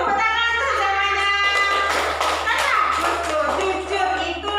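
Classroom pupils clapping together in a Year 4 lesson, a brisk scattered round of applause lasting several seconds, with a voice and background chatter mixed in.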